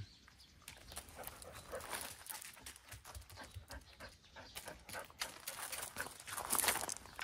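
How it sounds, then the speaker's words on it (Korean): Dog panting and vocalising close by through a stretch of several seconds during a handling and calming session, with a restless, uneven rhythm and louder bursts toward the end. "짖는 소리에 지금 집중하고 있죠."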